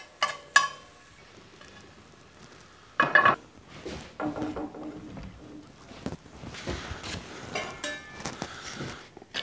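Scrambled eggs are scooped out of a rusty cast iron skillet with a utensil, producing several distinct scraping clanks and softer shuffling scrapes at close range, without voices.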